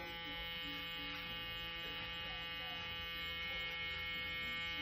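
Electric hair clipper running steadily during a mid-fade haircut, a faint, continuous buzzing hum with slight wavering, close by and without speech.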